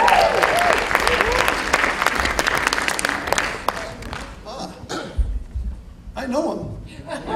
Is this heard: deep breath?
no